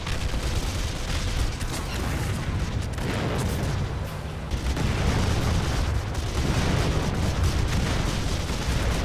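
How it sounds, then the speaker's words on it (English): Battlefield combat from the PSVR game Final Assault: dense, continuous rumbling of explosions and machine-gun fire with planes overhead, loud and sustained throughout with a brief dip midway. "Planes whiz by with their machine guns on full pelt, and explosions really do pack a punch."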